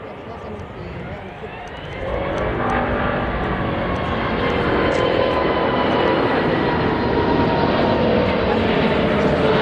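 An Airbus A380 going around after an unstable approach: a steady roar of engines that swells sharply after about two seconds into a loud, sustained thrust rumble.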